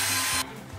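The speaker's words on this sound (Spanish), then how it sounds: "Y ahora vamos a taladrear el techo para poner esta maceta" A power drill bores into a ceiling to mount a hook for a hanging planter, a loud steady whirring grind that cuts off abruptly partway through, leaving a quieter lower motor hum.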